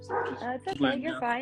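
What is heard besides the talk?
dogs barking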